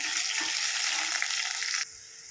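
Tomatoes, ginger, garlic, green chili and coriander sauté in hot oil in a pan for sambar, giving a loud, steady sizzle that cuts off abruptly near the end, leaving quieter hiss.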